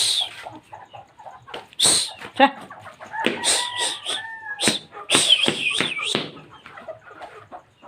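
Chickens cluck and squawk close by in a home setting with a rooster-like call mixed in, an irregular run of calls with a person's brief exclamation among them.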